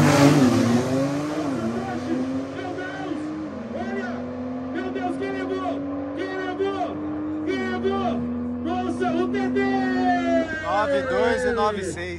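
Audi TTRS Stage 4 and Porsche 992 Turbo S drag racing at a speed event in Itatiba, engines revving hard with rising and falling pitch as the cars launch and pull away, while a voice speaks over the roar.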